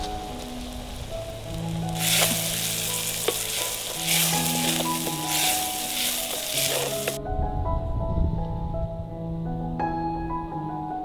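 Onions fry with salt in a pan, giving a close, steady sizzle with stirring scrapes over sustained background music. The frying grows louder for several seconds and then drops back to a quieter crackle.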